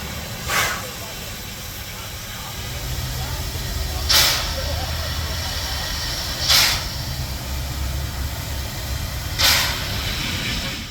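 Narrow gauge steam locomotive Tahoe standing at the Wabuska Depot, giving four short sharp hisses of steam at even gaps over a low rumbling background, with a voice talking through it.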